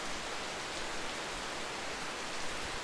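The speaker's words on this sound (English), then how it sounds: "Even now with this rain, it's still, I think, 78 degrees right now." Steady rain making a dense, even hiss with no breaks, constant in loudness throughout and no voices.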